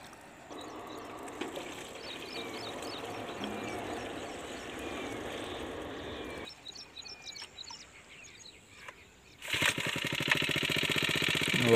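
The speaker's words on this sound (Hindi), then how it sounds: "फोर स्टॉक की आवाज भी चेक करवाने थे।" A small four-stroke sprayer engine drones steadily with birds chirping nearby, cuts off briefly, then revs up louder and harsher near the end.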